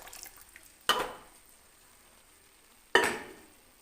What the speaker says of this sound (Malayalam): മസാല ഇതിലേക്ക് ഒഴിച്ചു കൊടുക്കാം